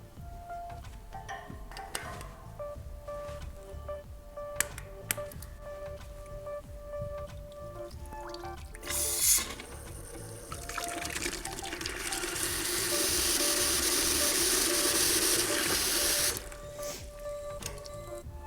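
Water rushes through a flanged ball valve during flushing, building from a faint trickle into a loud, steady hissing gush for several seconds before cutting off abruptly, with mechanical hum and occasional clicks around it.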